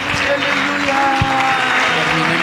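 A church congregation claps along in praise, a dense, steady wash of many hands at moderate level, with voices and music tones running underneath throughout.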